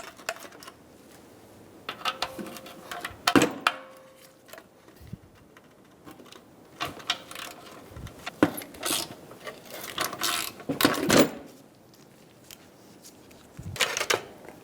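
Ratchet wrench loosening a bolt on the exhaust manifold heat shield of a 2000-2007 Ford Focus, heard as short bursts of quick clicking spread through the stretch with quieter pauses between, close by.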